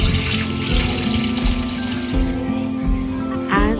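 Chicken meat being washed under a running kitchen tap, a steady, close rush of water splashing continuously with faint clatter of the meat and bowl.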